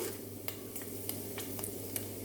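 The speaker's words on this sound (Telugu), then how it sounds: "వేసుకున్న నూనె కాగిన తర్వాత వేరుశనగ గుళ్ళు పచ్చిశనగపప్పు కొంచెం మినపప్పు" Peanuts, chana dal and urad dal sizzling in hot oil for amla pulihora, a quiet steady fizz with a few sharp pops and crackles spaced through it.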